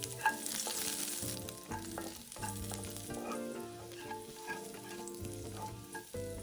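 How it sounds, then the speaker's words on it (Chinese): Garlic slices sizzle in a hot pan, a steady crackling fry that continues throughout with light stirring and scraping, alongside a soft background melody. "接着将预先备好的蒜片加进来。"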